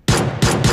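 Three rapid bursts of automatic gunfire from the PUBG Mobile video game, loud and close, with an MSM 150 ping setting mentioned, sharp broadband blasts repeating without pause.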